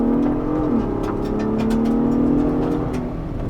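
A Ford Bronco Raptor in 4-wheel drive high with its manual transmission engaged revs steadily up close, its engine note dipping briefly for a gear change and then climbing again as it pulls through the next gear.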